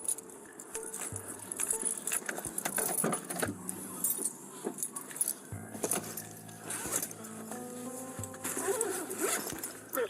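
Keys jangle in quick, close metallic bursts during a police response, mixed with rustling and a zipper-like rasp, while distant voices and radio-like chatter sit faintly underneath.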